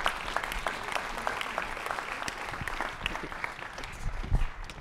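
An audience at a microbiology lecture applauds to welcome a speaker, with steady clapping from many hands filling the room for several seconds and a slight swell near the end.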